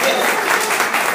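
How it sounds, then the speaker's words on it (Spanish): Crowd applause at a Colombian political rally celebrating an alliance with the Polo Democrático Alternativo: a brief, dense, steady burst of clapping that fills the whole moment. "un fuerte aplauso para ellos"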